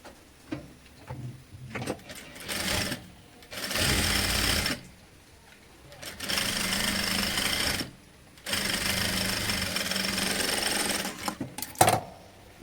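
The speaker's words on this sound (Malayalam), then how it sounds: "ഇനി ശേഷം നമ്മൾ ഇതുപോലെ മറിച്ചെടുത്തിട്ട് ഇവിടെ ഒരു സ്റ്റിച്ച് ഇട്ട് കൊടുക്കാം." A sewing machine stitches fabric for a kids top in several sustained whirring runs, each lasting a second to a few seconds, separated by short pauses and light handling noises, close and fairly loud.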